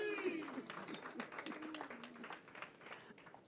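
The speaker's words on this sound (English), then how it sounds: "Please, a round of applause for him." An audience at a cultural diplomacy conference claps in scattered, moderate applause heard from a distance, with a voice speaking over the start and the clapping tapering off.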